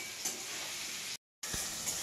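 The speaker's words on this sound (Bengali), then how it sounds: "আমার পেঁয়াজটা ভাজা হয়ে গেছে" Onions frying in a pan for a home-cooked chicken curry, giving a steady broadband sizzle close to the listener. The sizzle cuts out briefly, then comes back with a light stirring knock.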